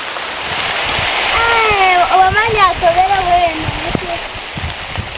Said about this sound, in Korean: 결국 무섭게 비가 쏟아집니다.